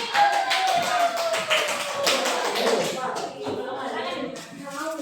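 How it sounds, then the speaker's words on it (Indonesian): A classroom of students claps for a student group after its presentation, a dense, steady patter of hand claps lasting several seconds with voices murmuring underneath. "Beri tepuk tangan dulu untuk kelompok 3 yang sudah berani"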